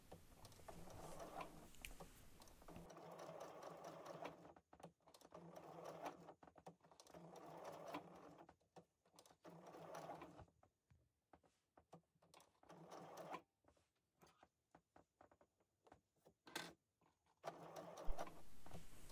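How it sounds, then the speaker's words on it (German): Sewing machine stitching black thread along a marked line on a fabric pouch, running in bursts of rapid whirring with short pauses between runs, close and clear, no talking. "Ich nähe jetzt einmal entlang der Linie"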